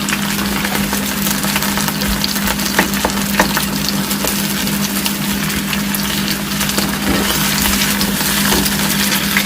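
Potatoes fry in an older electric frying pan that heats unevenly, giving a steady, continuous sizzle over a low electrical hum, with no talking.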